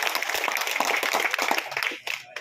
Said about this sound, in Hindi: इसलिए एक बार इनके लिए जोरदार तालियां हो जाए